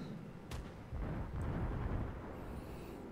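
Torpedo hits detonate against a warship in World of Warships, a loud sharp blast followed by a couple of heavy booming rumbles under sustained low battle noise, no voices.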